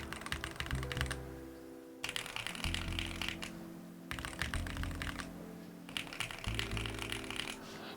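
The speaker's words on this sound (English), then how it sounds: "Let's hear the sound difference between these two keyboards." Typing on two mechanical keyboards, an Epomaker HE 80 and a Gateron model, in alternating bursts of rapid, close clacking keystrokes with short pauses between runs.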